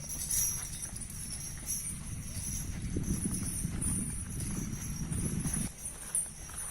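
Elephant walking briskly through a village toward a large public bathing pond, its footfalls a steady rhythm of soft thuds at close range, with faint background noise and a hint of voices.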